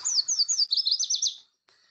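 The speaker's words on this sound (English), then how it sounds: "This is the yellow warbler." Recorded yellow warbler song played back: a rapid series of high, sweet, slurred whistled notes speeding into a quick warbling run, clear and moderately quiet, ending abruptly with a brief faint note after.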